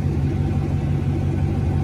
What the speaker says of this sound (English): so I got a Corvette, and this is it